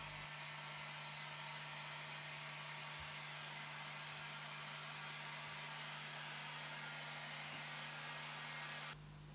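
A heat gun blows a steady, even whoosh of hot air to dry fixative on a repair surface, running continuously and then cutting off just before the end.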